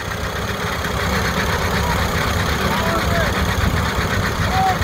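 An antique tractor engine runs steadily as the machine drives out, a continuous loud mechanical rumble with people talking over it.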